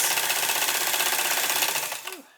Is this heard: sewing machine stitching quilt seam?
yes